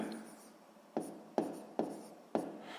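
Pen writing fractions by hand on paper for a sixth-grade maths exercise, a few sharp stroke onsets each trailing into soft scratching, close and fairly quiet, with a faint voice in the background.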